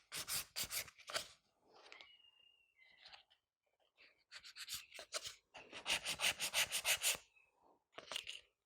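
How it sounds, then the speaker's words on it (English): Quick rhythmic scratchy strokes of a file and buffer working an acrylic coffin-shaped nail, close and crisp, coming in bursts separated by brief pauses. "got just a little bit more buffing to do on this nail"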